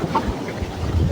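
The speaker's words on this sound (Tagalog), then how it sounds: "Mahangin mga kalayas" Strong wind buffets a microphone on a fishing boat out on the water, a loud, rough rushing noise with low rumbling gusts and no talk.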